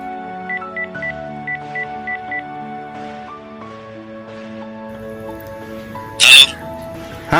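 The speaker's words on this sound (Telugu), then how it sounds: "వాడింటికి చేరాడో లేదో ఫోన్ చేసి తెలుసుకుందాం అనుకున్నా." A phone number is dialed with a run of short, evenly spaced keypad tones, then a sustained ringing tone follows, with a brief loud burst near the end.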